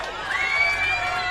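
A pickleball crowd at an MLP Australia match in Brisbane cheers and whoops in one continuous, loud burst of massed voices.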